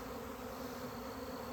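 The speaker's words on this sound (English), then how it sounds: "it sure looks like these bees are swarming" Dense, steady drone of a honeybee swarm filling the air outdoors, a continuous even hum from many bees flying close around, with no voices.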